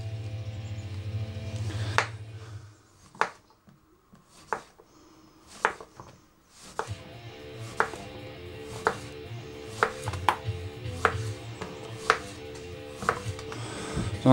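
A knife chops vegetables into cubes on a cutting board at home, making sharp, close knocks at an irregular, quickening pace over a steady low hum.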